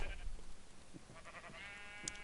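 Sheep bleating in the video game Minecraft, a few short bleats over a soft, steady game background, with one sharper cry near the end.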